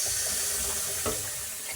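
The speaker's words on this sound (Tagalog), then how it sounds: "Lagyan natin tubig guys." Water runs steadily into a cooking pot, a continuous broad splashing rush close by with no voices.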